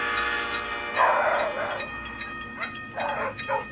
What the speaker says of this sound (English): I really like how the album ends with the sound of a train passing by and dogs barking.